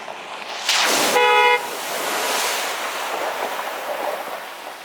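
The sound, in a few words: car horn honking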